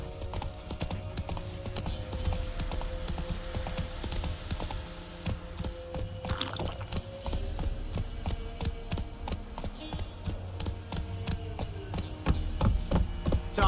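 Horse hooves clip-clop steadily across ground in the Witcher 3: Wild Hunt video game, a continuous rhythmic stream of hoof beats under game ambience, with a brief shout partway through.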